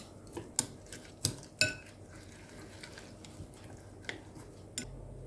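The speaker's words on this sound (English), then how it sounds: "Add the cabbage pieces to the beaten eggs and mix them together." Light clinks of a utensil against a bowl while mixing cabbage pieces into beaten eggs, a few sharper taps early then softer scraping, close by, over a faint steady background hum.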